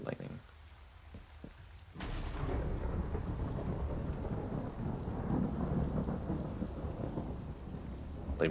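In a survival video game, a thunderstorm breaks with a sudden rolling crack of thunder, followed by heavy, steady rain pouring loudly and close, with a low rumble lingering underneath.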